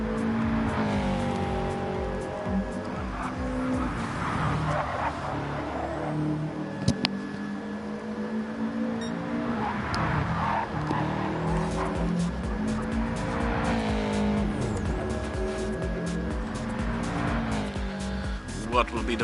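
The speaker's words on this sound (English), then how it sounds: "qualifying 2 for the second race. Great Rex will be the first one to set a fast lap" Race cars lap Brands Hatch in a WTCC racing video game qualifying session, engines droning and shifting with occasional tire squeal while a commentator talks over the continuous engine noise.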